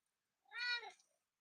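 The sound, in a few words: ginger cat meowing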